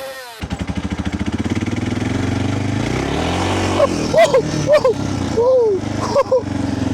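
A Suzuki DR 600 motorcycle, restored after 18 years abandoned, runs with a rapid thumping single-cylinder idle that rises into a strong rev. Voices are heard briefly over the engine noise toward the end.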